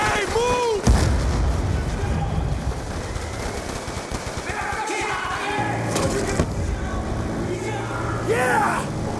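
Combat from Call of Duty Black Ops 2 with continuous heavy gunfire and battle noise, a sharp blast standing out near the start amid dense explosions and shooting, with shouted voices over the din.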